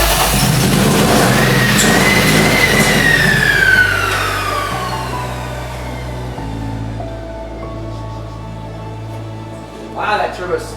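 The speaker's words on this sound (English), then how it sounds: "Wow, that turbo spins." BMW E30 turbo engine firing up on starter fluid, with a rising whine as the turbo spools up and then slowly winds down over several seconds above a low engine rumble, followed by a brief clatter near the end.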